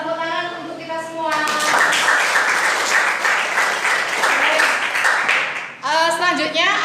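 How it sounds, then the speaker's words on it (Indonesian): A classroom audience bursts into sustained, loud applause lasting several seconds, with talking before it starts and again as it dies away. "Tepuk tangan untuk kita semua."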